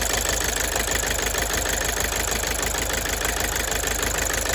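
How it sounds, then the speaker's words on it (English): A Toyota Avensis engine with a bad number 2 injector disconnected runs steadily, a close, continuous mechanical drone with a faint rapid knock throughout and no voices. "We are running now with that injector out of the circuit."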